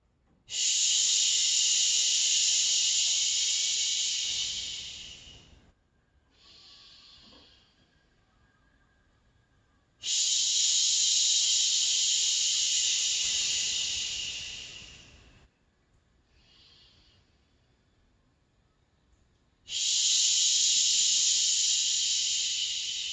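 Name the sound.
sustained shushing breath sound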